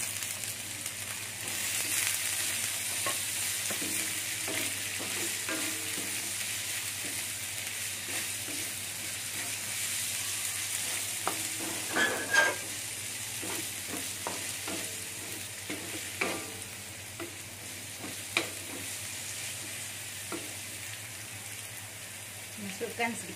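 Carrots and green beans stir-fried in a pan with garlic, giving a steady close sizzle broken by scraping stirs and clinks for the whole stretch, with no talk.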